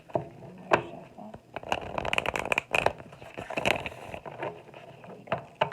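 Tarot cards are shuffled by hand nearby: dense crackling flutters and sharp card snaps come in uneven waves, with no talking.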